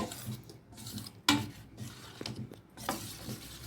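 Quiet kitchen clatter: a metal kadai knocks down sharply onto a stovetop, followed by faint scraping and clinks.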